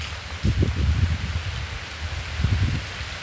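Steady rain falls with no wind, a soft even hiss with low drumming swells of drops on surfaces, moderately close and continuous.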